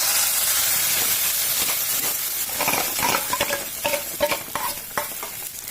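Ground spice paste for paneer butter masala hitting melted butter in a pan gives a loud, steady sizzling hiss that later breaks into crackling, spattering pops, close up with no voices.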